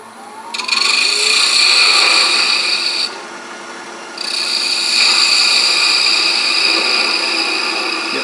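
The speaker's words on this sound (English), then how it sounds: "we're just going to use our regular spindle gouge for that" A regular spindle gouge cuts into a spinning wooden ring holder on a lathe, giving a steady loud rasping hiss that dips quieter for about a second mid-cut, then resumes at full strength to the end.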